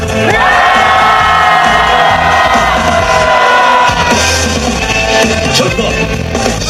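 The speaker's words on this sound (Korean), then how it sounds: "함성 시작!" A large crowd at a candlelight rally shouts and cheers together in a loud, sustained roar, rising voices blending into one continuous outdoor din.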